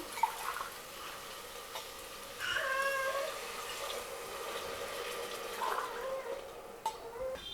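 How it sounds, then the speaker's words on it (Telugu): Water poured into a pressure cooker of rice and vegetables for vegetable pulao, heard as a soft, close gurgling pour that swells in a few short bursts over a quiet background. "నాలుగు గ్లాసులు వాటర్ వేసుకుంటున్నా"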